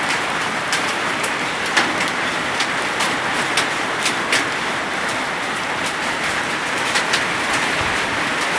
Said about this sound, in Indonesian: Tuh, hujan es tuh.